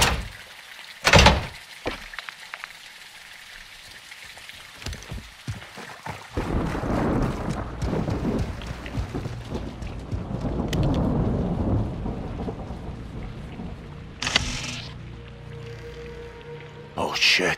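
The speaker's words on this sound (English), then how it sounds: "It's raining fucking hard." In the Modern Warfare 2 video game, thunder cracks loudly near the start and again later, with heavy rain rumbling and pattering in between, under voices talking at points.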